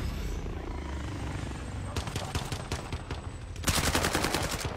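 Bursts of gunfire in a shooter video game crackle in rapid volleys, the heaviest coming as a dense, loud burst near the end, with a voice talking faintly underneath.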